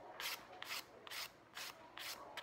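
A nail file rasps back and forth over dip powder nails, six distinct strokes in a steady rhythm, close and fairly quiet with no talk.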